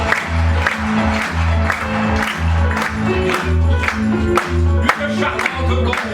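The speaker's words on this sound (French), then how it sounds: "Applaudissements." Theatre audience applauding a campus company's stage show as the next contestant comes up, sustained clapping over a loud, rhythmic music track with a pounding beat, the claps blending into the busy mix.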